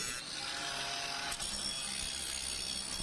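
A steady, loud grinding whine of a brushless angle grinder with a 125 mm abrasive wheel removing rust from a metal pipe, with a harsh, gritty high-pitched hiss throughout.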